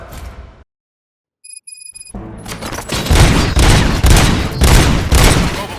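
After a brief silence and faint metallic pings, loud rapid gunfire erupts and continues in heavy bursts with booming impacts, dense and close, in the video game RoboCop: Rogue City.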